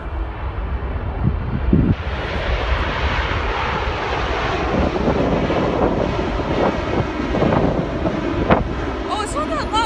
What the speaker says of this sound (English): It's gonna be really loud, Aiden. It's two GE90s